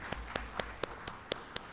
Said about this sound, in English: Can we have a round of applause for the success of the national conference?